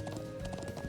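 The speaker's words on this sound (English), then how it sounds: "How to ride the horse." Horse hooves clip-clop in a quick galloping rhythm during horseback riding in the video game Trails of Cold Steel, soft and close with light game ambience behind and no talking.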